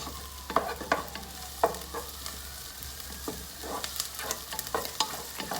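Garlic being stirred in a frying pan, scattered sharp clicks and scrapes of a utensil against the pan over a low, steady sizzle and hum, with no talking.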